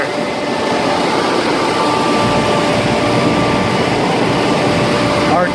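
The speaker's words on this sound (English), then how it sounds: "That's the air-cooled chiller." A Trane RTAA air-cooled chiller runs with a loud, steady roar of fans and compressor, a constant broadband rush with faint tonal hum, continuous throughout at close range.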